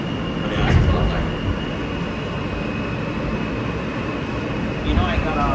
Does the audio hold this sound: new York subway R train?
yes